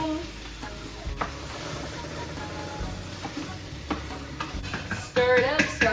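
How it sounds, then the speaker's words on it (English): Lean ground beef sizzles in a pan with a little olive oil while it browns and is stirred, a steady close frying hiss broken by clinks and scrapes of the utensil, growing busier near the end. "Stir it up, start browning that ground meat"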